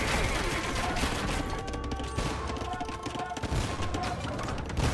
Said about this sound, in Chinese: 这个都是城堡的动画，有看到那子弹从城堡里面喷出来